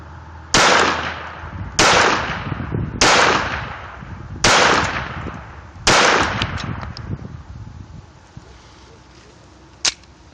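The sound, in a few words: Walther P22 .22 pistol firing five shots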